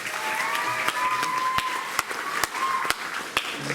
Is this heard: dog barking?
no